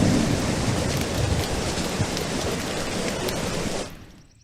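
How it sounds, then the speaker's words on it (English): Heavy rain pours with rumbling thunder rolling underneath, a loud, dense, continuous wash over a waterlogged lawn that cuts off abruptly near the end. "Still raining."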